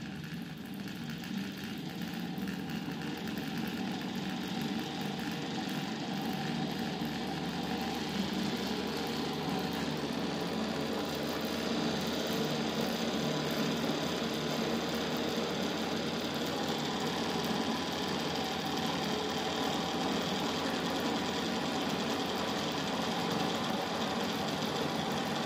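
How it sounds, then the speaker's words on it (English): A 230-volt AC permanent magnet motor, run without a controller, hums and whirs steadily and continuously at close range with a slight vibrating buzz, with no voices over it. "look at this, the motor is running."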